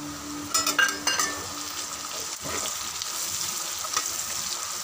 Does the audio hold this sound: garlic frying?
yes